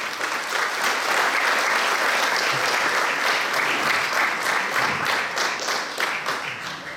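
Audience applause at the opening of the Treimani band day in the Treimani community hall: dense, steady clapping from a full crowd that stays loud and even throughout, with no talk over it.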